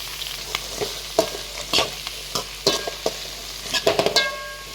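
Chopped beetroot stirred and sautéed in a hot pan for a home-style sambar, with scattered scraping stirs and light sizzling throughout, close and moderately loud, no talking.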